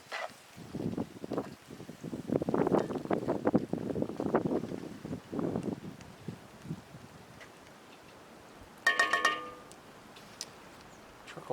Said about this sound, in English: Hopefully the wind isn't wiping out the speakers on there